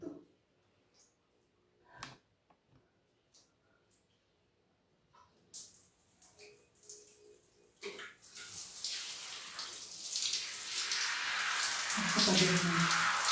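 Water gushes into a bathtub, starting after a few faint knocks and soft sounds, then swelling into a loud, steady rushing stream that fills the rest of the clip.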